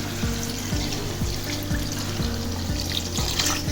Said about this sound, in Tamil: இப்போ வந்து நான் இந்த தண்ணிப்பால், தேங்காய் பால் தண்ணிப்பாலை சேர்த்துக்கிறேன்.